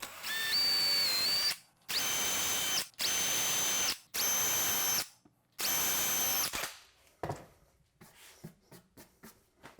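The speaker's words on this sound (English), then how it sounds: "We're going to just do a little pre-drilling. Hardwood, if you don't pre-drill," A power drill pre-drills a hardwood butcher block countertop in five short, loud bursts separated by brief pauses, then gives way to scattered clicks and small knocks.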